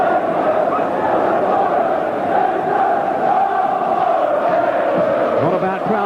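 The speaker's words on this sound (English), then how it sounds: "Not a bad crowd in here tonight at all" Aston Villa supporters fill Villa Park for a 1990 night match against Middlesbrough, a loud, dense and continuous roar of crowd noise with shouting, holding steady throughout.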